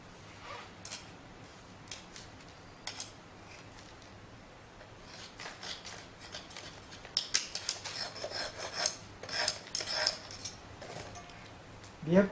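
A metal straight edge scrapes protruding soil off the top of a Proctor compaction mold in a soil lab, giving dry rasping strokes that grow louder and more frequent toward the end.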